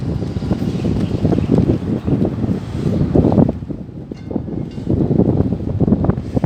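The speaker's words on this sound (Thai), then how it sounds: "ลมแรงมาก" Strong wind roars across a hilltop temple, a loud, continuous rumbling buffet on the microphone that eases briefly before gusting back up.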